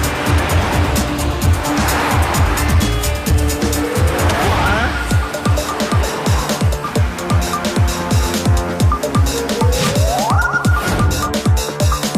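A cartoon race car roars along with rising engine revs and sharp tire squeals, accompanied by quick clattering hits and busy background sound throughout.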